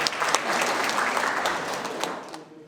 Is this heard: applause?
yes